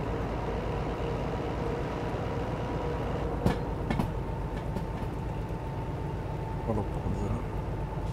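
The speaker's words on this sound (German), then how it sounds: "Hier ist ein schöner langer Zug." A long freight train rolls through the Derail Valley railway game with a steady, loud rumble and wheel noise, occasional clanks and clicks over the track, and no other sounds standing out.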